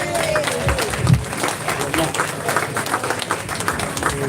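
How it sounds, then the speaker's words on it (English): Audience applause as a comedian is brought on stage, clapping from a live crowd mixed with some voices and bustle, moderately loud and uneven. "big hand, warm round of applause please for Mark Steele"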